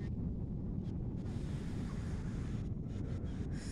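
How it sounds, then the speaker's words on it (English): Ocean surf rolls and crashes onto a beach in a steady, continuous roar, heavily buffeted by wind rumbling across the microphone, with no voices. "The waves, they go real high."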